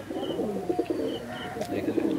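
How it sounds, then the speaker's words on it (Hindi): A small female Madrasi pigeon of the Chennai breed coos in soft, low, repeated rolling calls, close and steady, with a brief higher chirp partway through. "छोटा साइज का कबूतर है"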